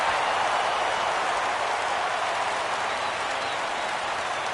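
Crowd at a baseball stadium rising and cheering ahead of a full-count pitch, a broad, steady roar of applause and voices that holds at constant loudness throughout.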